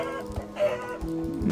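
Minecraft chickens cluck in short, scattered bursts, a few close clucks spaced apart over a low background.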